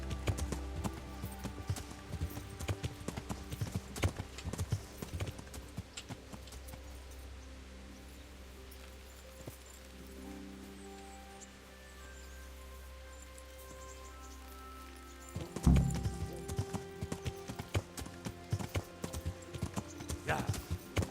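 Horse hooves clip-clop in a steady rhythm amid ambient sound in the video game Kingdom Come: Deliverance, with a sharp thump partway through and voices talking at times.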